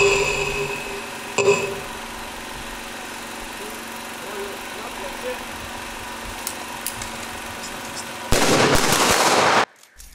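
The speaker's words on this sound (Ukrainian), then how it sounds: "військові вшанували пам'ять побратимів пострілами" Soldiers fire a gun salute at a memorial in Dnipro for Ukrainian paratroopers killed in battle near Shakhtarsk: one early shot, then a loud, rapid volley near the end over a low background hum.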